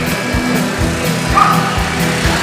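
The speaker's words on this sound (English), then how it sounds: "I was just trying to drown out some of those dogs barking" Several dogs bark in the distance outdoors at a basketball finals event, giving short, repeated yaps at an uneven rhythm under a steady background hum, with no talking.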